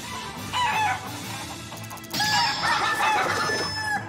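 Chickens cluck and squawk in short harmonic bursts over a busy background of game music and effects in the video game Shenmue III, loud and close.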